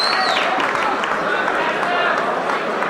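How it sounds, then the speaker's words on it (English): A crowd at a boxing event applauds and cheers loudly and steadily, a dense wash of clapping with a few shouts mixed in. "How about a round of applause for Fast Eddie Richardson?"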